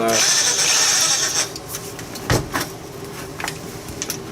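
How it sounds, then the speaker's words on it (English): A Milwaukee hammer drill driving bolts gives a loud, steady high whir for about a second and a half. Scattered knocks and clacks follow as the tool and workpiece are handled. "A Milwaukee drill, so awesome it just snaps the heads off bolts."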